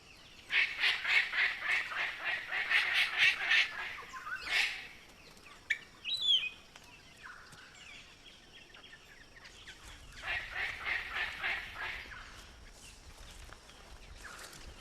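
Palm cockatoos calling in a rainforest, bursts of rapid, harsh, repeated squawks and whistles, moderately near, separated by quieter stretches of forest ambience with one or two sharper single calls in between.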